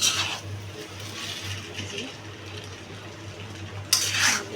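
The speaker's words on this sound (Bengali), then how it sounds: "দেখেন এই যে নুডলসটা দিয়ে নাড়াচাড়া দিয়ে কিন্তু আমাদের নুডলস রান্না হয়ে যাবে।" Chinese-style noodles with vegetables being stirred in a pan in a home kitchen: soft, low scraping and light clattering under a faint sizzle, ending in a brighter metallic clink.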